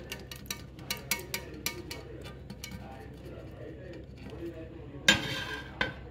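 A spoon stirs tamarind pulp into amla paste for an amla pickle, giving a steady rhythm of scraping clinks against the vessel that fades midway, then two sharper clatters near the end.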